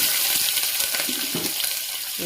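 Chopped onions frying in a pan with cardamom and cloves for veg biryani, a steady, close, dense hiss of oil that stays even throughout the short clip.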